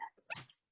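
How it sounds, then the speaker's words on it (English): A giant puppy lets out a quick excited bark and yip, close and fairly loud, then falls briefly quiet before a faint whimper. "my dog is going to jump in and come say hi to everyone"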